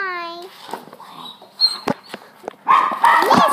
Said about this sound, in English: we got a new puppy named Misty.